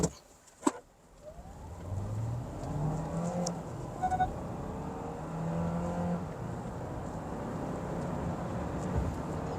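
A Hyundai Tucson hybrid accelerating hard in sport mode, its engine note rising steadily through several climbing sweeps as the SUV pulls away, heard from inside the cabin after a sharp click at the start.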